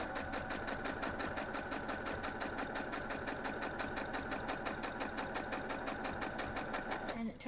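A sewing machine stitches a quilt block in a steady, fast mechanical chatter of evenly repeating needle strokes. It runs loud and close the whole time, then cuts off abruptly at the very end.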